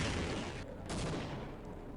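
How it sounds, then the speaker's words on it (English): Sustained roaring blast from an RPG rocket launcher in Half-Life, a dense broadband rush with a brief dip midway before the roar resumes, loud and close throughout. "And then take out the RPG."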